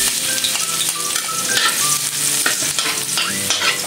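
Garlic sautés in a large cooking pot with a loud, continuous close sizzle and frequent metal stirring scrapes and clinks throughout, no voices.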